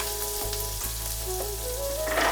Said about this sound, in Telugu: ఇప్పుడు మనం సన్నగా తరిగి పెట్టుకున్న ఉల్లిపాయ ముక్కల్ని వేసుకొని